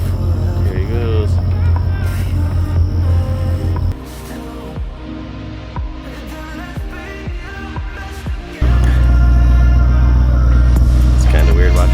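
A 1962 Ford Fairlane 500 pulls away in a state forest, its loud engine rumble running throughout with a dip in the middle before swelling louder again near the end, while people talk over it.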